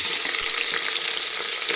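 Food frying hard in a hot pan for chicken donne biryani, a loud dense crackling sizzle that fills the whole moment, close up with no voices.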